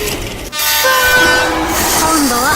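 Toy train running with a whistle-like toot and steady rumbling motion, loud and continuous throughout, with a brief rising tonal sweep near the end.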